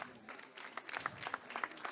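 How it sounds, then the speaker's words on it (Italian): Brief applause from a festival audience greeting Francesca at an award ceremony, a short burst of close, scattered clapping lasting under two seconds. "un applauso a Francesca"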